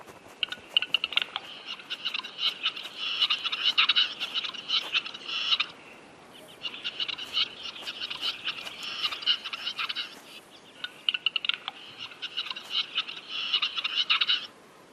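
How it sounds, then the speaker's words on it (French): A male grouse calls in an Estonian winter forest, giving three long bouts of dry, rasping, clicking song separated by short pauses. The calls are moderately faint over a quiet background, with no voices. "Les cris du tétras attirent les femelles, mais aussi un rival"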